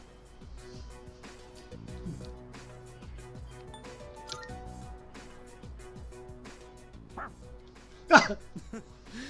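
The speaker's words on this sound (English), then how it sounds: "Your dog doesn't seem to like your answer." A dog barks in the video game Persona 3 Reload, one short sharp yip near the end, heard over soft background music.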